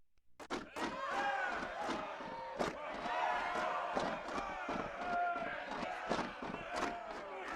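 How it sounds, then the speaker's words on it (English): A video-game crowd in Champions of Norrath on PS2 cheers and roars in repeated surging bursts with sharp thumps, loud and continuous over several seconds. "I don't know why they started cheering all of a sudden."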